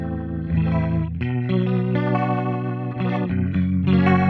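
An electric guitar plays sustained chords through a chorus-type modulation effect on a Fractal unit with tap tempo off, giving a rich, wavering shimmer with slight distortion, loud and alone.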